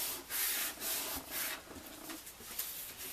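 Paper is folded by hand for a giant greeting card, quiet close rubbing and crinkling swishes as the sheet is creased and pressed flat.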